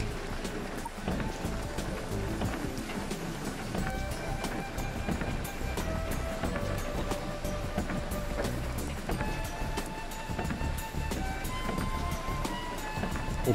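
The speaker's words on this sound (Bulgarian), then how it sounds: "От дупката там излиза водата." Rainwater pouring out of a hole in a thick stone structure in the Rhodope village of Gruevo after a hailstorm: a continuous, close, rushing splash with no pauses.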